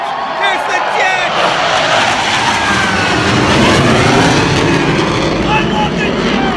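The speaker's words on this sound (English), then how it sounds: "Here's the jet!" A loud jet roar sweeps over the WrestleMania 33 stadium stage, a sustained broad rushing engine noise that swells slightly midway, heard close and alone without talk.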